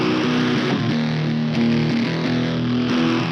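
Heavily distorted, compressed electric guitars strum sustained chords for a grunge/emo-style chorus, forming a dense, loud, saturated wall of sound that shifts chords every second or so, with no voices.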